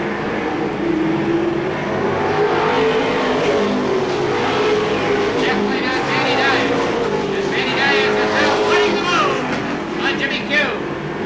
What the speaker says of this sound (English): One of the automobiles backfiring badly out there.